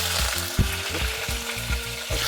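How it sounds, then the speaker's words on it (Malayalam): Mustard seeds popping in hot oil as ginger, garlic and green chili fry, a dense steady sizzle broken by sharp crackles and pops, close and loud with no voices. "ആദ്യം നമ്മുടെ കടുക് പൊട്ടുന്നുണ്ട് ഗൈസ്. ഇപ്പോഴാണ് എണ്ണ ചൂടായത്. കടുക് ഉരുവായും പൊട്ടി. ഇതിനകത്തോട്ട് ഇഞ്ചി, വെളുത്തുള്ളി, പച്ചമുളക്"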